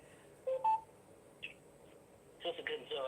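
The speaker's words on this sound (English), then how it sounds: "press *6 on your phone" Telephone keypad tones as star 6 is pressed on a phone during a call-in line: a couple of short tonal beeps early, then a cluster of brief tones near the end, faint against low line noise.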